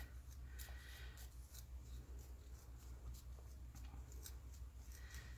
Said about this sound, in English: we're just going to take the scissors and do a little scallop at the top